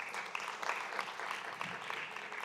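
A room of conference attendees applauds the interpreters and the technical crew in the control booth, a continuous, moderately distant wash of clapping with no pauses.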